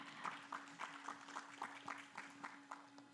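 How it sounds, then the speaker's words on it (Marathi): A small audience at a book event claps in a sparse, fairly regular rhythm, individual claps distinct against a steady hum in the room. "एकदा त्यांच्यासाठी आपण टाळ्या वाजवूया"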